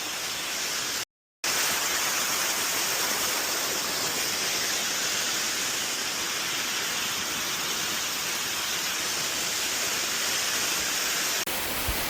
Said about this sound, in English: How many of you guys have actually been in the Thailand waterfall?